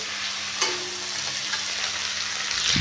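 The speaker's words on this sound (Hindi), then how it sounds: "ये देखो सब्जी बन रही है अपनी" Bell pepper (shimla mirch) vegetable dish frying in a pan: a steady, soft sizzle with a low hum beneath and occasional faint stirring clinks, no voices.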